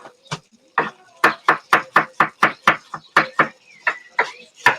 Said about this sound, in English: Chop this up as finely as we can.